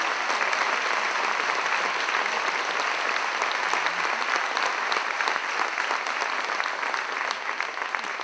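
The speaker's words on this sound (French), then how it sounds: "Wow, on peut les applaudir parce que franchement," An audience applauds a choir after a performance, with steady, dense clapping held at an even loudness through the whole stretch.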